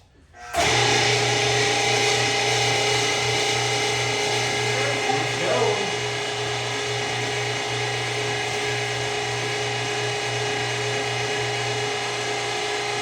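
An electric meat grinder runs steadily with a loud, constant motor hum while pork chunks are fed a little at a time into the auger, with a brief rougher grinding patch partway through.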